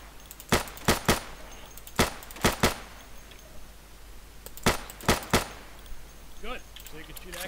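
Sharp gunshots from the tactical shooter game Insurgency ring out in bursts of two and three, loud and close, with a stretch of near silence between volleys and faint chatter toward the end.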